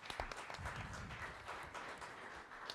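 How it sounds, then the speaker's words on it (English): A crowd at a venture capital panel event applauds in a brief, continuous patter of clapping, heard at a fair distance. "Applause"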